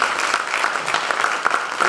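Steady applause from a crowd at a storytelling night, a dense wash of clapping hands that holds evenly throughout with no pauses.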